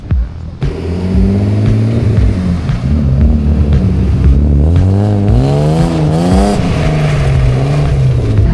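A BMW E30's engine revs hard during a handbrake drift, rising and falling in pitch up close. The engine sound is loud and continuous, with a possible hint of tire noise.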